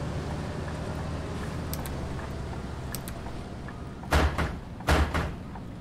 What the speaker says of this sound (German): Man hört die Tür nicht, aber man hört, wie sie zuschlagen.